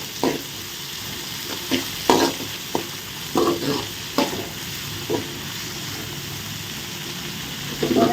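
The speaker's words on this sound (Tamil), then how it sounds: "வெங்காயம் நல்லா வதங்கட்டும்" Onions sautéing in a pan, a constant close sizzle broken by repeated scraping stirs from a spatula at uneven intervals.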